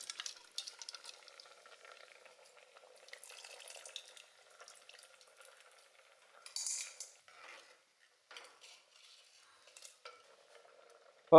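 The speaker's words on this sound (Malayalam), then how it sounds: "നമുക്ക് പുളി നമ്മൾ പുളി പിഴിഞ്ഞ് വാരാം ഒരു രണ്ട് പ്രാവശ്യം പിഴിഞ്ഞ് വാരാം പുളി" Tamarind squeezed by hand in water for a bitter gourd and lentil curry makes quiet, soft squelching and sloshing with faint splashy drips in irregular bursts, close and low in level.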